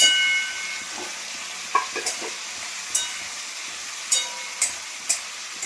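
Capsicum fries in a pan with a steady soft sizzle as a spoon stirs it, scraping in about half a dozen short, distinct strokes spaced a second or so apart.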